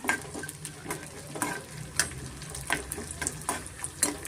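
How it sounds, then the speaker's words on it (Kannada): Edible gum (gond) frying in ghee on medium flame, a steady close sizzle with soft scraping and stirring clicks over it, no voices. "ಗೋಂದು ಅಥವಾ ಅಂಟು ಅಂತಾರಲ್ಲ ಒಂದು ಎರಡು ಸ್ಪೂನ್ ಆಗಷ್ಟಿದೆ ಅದನ್ನು ನಾವು ಸ್ವಲ್ಪ ತುಪ್ಪದಲ್ಲಿ ಫ್ರೈ ಮಾಡ್ಕೊಬೇಕಾಗತ್ತೆ"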